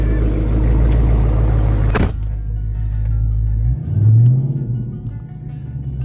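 A 2020 Dodge Charger 392 Scat Pack Widebody's Hemi V8 rumbles heavily at idle, then cuts sharply quieter before a short throttle blip swells and settles back to a low idle.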